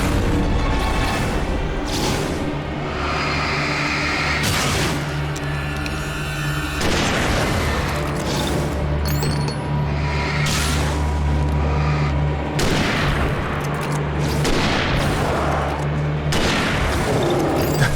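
Hunting rifle gunshots in Alan Wake Remastered come as booming blasts at intervals, over dense, continuous game noise with rumble and clatter throughout.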